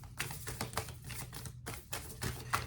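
A Moonology oracle card deck being shuffled and handled, with rapid crisp papery flicks and taps in quick irregular bursts, close and soft, over a faint low hum with no talking.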